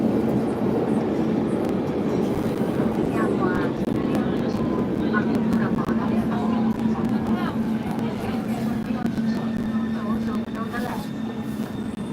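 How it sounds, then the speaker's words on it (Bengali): A metro train runs at speed with a loud, steady rumble and rattle heard from inside, while someone talks over the noise. "এখানকার মেট্রো কত স্পিডে চলে দেখেন"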